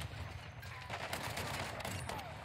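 Video game shotgun blasts boom in a quick cluster of several heavy reports, fairly faint and muffled amid busy game noise, with a voice faintly present.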